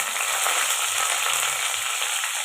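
Constant crackling sizzle of curry leaves frying in hot oil, bright and close, with no voices.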